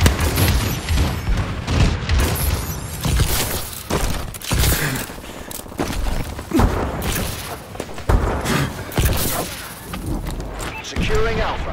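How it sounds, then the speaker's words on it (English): Friendly bombing-run explosions in Call of Duty: Advanced Warfare online multiplayer: a loud, continuous barrage of booms, thuds and crashing impacts, densely layered, with a voice faintly mixed in. "Friendly bombing run incoming."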